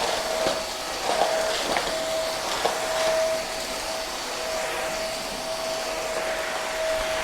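Corded stick vacuum cleaner without a rotating brush running on carpet, a steady loud whirring drone with a thin whine, continuous and close, with a few faint clicks early on.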